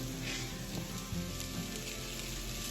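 Corned beef and onion sizzle and fry steadily in a cast iron skillet, a dense continuous crackle with a few soft spatula scrapes, close and loud with no talking.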